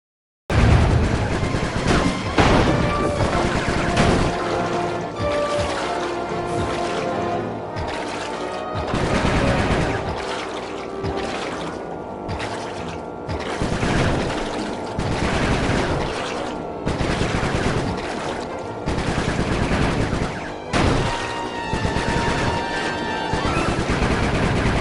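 Rapid gunfire in the Sly Cooper 3 video game, dense volleys of shots running almost without pause for the whole stretch over a busy game backdrop, loud and close.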